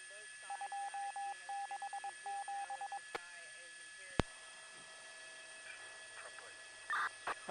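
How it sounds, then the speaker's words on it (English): A beeper sounds in rapid repeated bursts of short high tones, a rhythmic pattern over the first few seconds and again briefly near the end, faint against a quiet broadcast background. "I just was getting a beeper."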